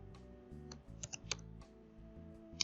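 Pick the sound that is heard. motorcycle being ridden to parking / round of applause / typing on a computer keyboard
typing on a computer keyboard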